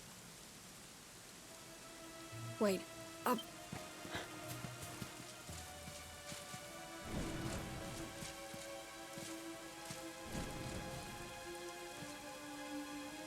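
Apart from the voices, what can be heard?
rain in the video game Dragon Quest XI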